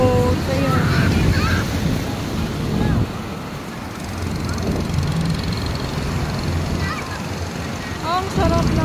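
Sea waves washing steadily onto a beach during a swim outing, a continuous rushing surf with wind buffeting the microphone and people chatting throughout.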